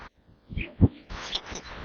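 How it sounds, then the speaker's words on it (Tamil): Pigeons coo at the Marina Beach feeding area, soft low throaty coos rising in the middle of gusty wind noise outdoors, with no speech. "பின்னாடியும் புறா முன்னாடியும் புறா"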